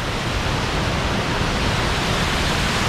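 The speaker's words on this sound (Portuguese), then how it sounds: "E aqui as quedas, olha." Waterfall of the Búrica River, a steady loud roar of falling water filling the whole clip with dense, unbroken rushing noise and no voices.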